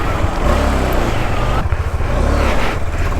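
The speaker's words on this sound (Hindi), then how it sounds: "गियर से काफ़ी साउंड आ रहा है। मतलब फर्स्ट 3 गियर्स तो काफ़ी ज़्यादा साउंड आ रहा है।" An old car driving with noisy gears in its first three gears gives a loud, continuous engine and transmission rumble with a grinding mechanical whine riding on top, close and steady throughout.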